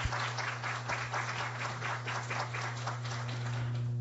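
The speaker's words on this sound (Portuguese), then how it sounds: "Uma salva de palmas para o Marcelo," Applause at a business-analysis talk, as the audience welcomes the speaker Marcelo; steady clapping fills the whole stretch at moderate level over a constant low electrical hum.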